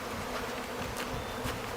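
Honeybees swarm at a hive feeder, keeping up a dense, steady buzzing hum that stays close and fairly loud throughout, with no voices.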